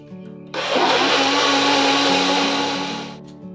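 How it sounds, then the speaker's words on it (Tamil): Electric blender whirring through cold coffee with ice cubes, starting abruptly after a quiet moment, holding a loud steady grinding roar for about three seconds, then cutting off sharply. "இப்போ இதை பிளெண்ட் பண்ணி எடுத்துகிட்டு வந்துடலாம்."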